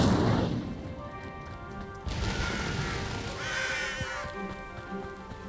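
Incendio fire spell cast in the video game Hogwarts Legacy, a loud burst of flame at the start followed by whooshing magical swells and crackling under game music, no talk.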